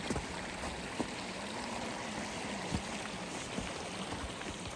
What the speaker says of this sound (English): Look back down at Tilly Jane Creek and all its raging goodness.